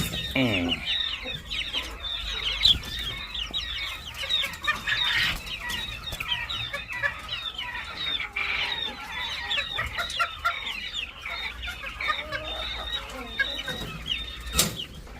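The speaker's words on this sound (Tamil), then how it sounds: "இது கினிக்கோழி செட். கினிக்கோழி நிற்கிறாங்க." Guinea fowl on a rooftop farm give repeated harsh, rhythmic chattering calls, several birds overlapping close by, with occasional clucks and a sharp knock or two in the background.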